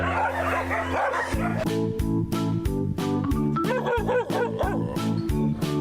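Pet dogs bark loudly and repeatedly in quick succession in Antipolo, Philippines, several sharp barks overlapping with a busy, steady background.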